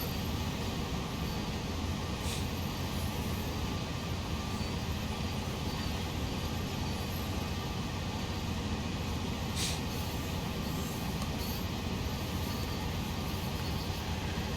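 A Dash-8 diesel locomotive in a train simulator game, running up the Sand Patch grade on a CSX line: a steady, dense engine drone that holds evenly throughout with no breaks, no voices.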